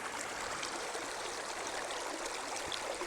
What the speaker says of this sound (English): we're gonna put this right in the stream of water without disturbing the gravel